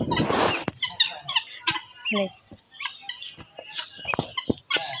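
Turkeys and guinea fowl kept at a village home give a noisy burst of clucks, gobbles and sharp calls in quick, irregular bursts, fairly close, with quiet gaps between.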